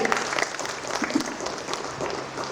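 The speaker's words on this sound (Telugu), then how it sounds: "గట్టిగా క్లాప్స్ కొట్టండి" An audience claps steadily at a charity awards event honouring a dancer, with dense, sustained applause and a faint voice underneath.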